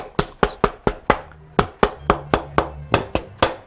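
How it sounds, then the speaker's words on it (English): Dead blow hammer tapping a wooden chest drawer front held in a strap clamp, about a dozen sharp, evenly paced knocks, close and crisp, with no talking. "bang on it a little bit with the dead blow hammer"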